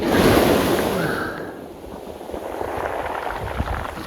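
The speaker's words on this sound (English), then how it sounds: "Oh, here comes a rolling wave" Ocean waves rolling onto a beach near a reef, a broad wash of surf that swells and then fades, with a breezy hiss and no voices.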